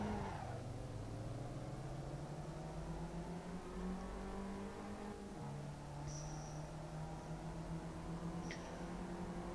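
Small car engine in Assetto Corsa revving and shifting steadily, its pitch climbing, dropping at a gear change, then holding, heard from inside the car at a fairly low level, with no talk.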